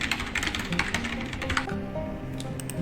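Clicky rapid typing on a computer keyboard as a new title is entered, dense keystrokes close up with a steady background hum.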